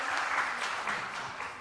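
An audience at a casual arts talk show applauds for the Berau Regency tourism office, steady dense clapping throughout the short stretch, moderately loud with no voices.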